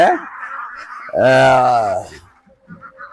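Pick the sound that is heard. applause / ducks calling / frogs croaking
ducks calling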